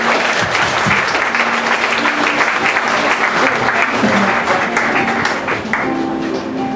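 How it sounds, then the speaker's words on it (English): A church congregation at a Mother's Day service claps loudly and continuously, a full, dense round of applause filling the room from start to finish. "Let's give the round of applause"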